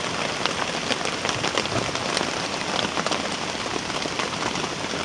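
Steady rain pours onto camp tents during a flood along a river, a dense, constant patter and hiss with scattered close drop hits, no voices.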